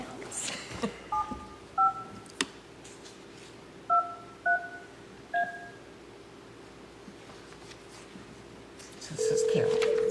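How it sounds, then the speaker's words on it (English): A telephone dials a number during a historic district review board meeting, six short paired touch-tone beeps spaced irregularly, followed by a steady ringback tone in a quiet room. "We will try to call this other number that we have."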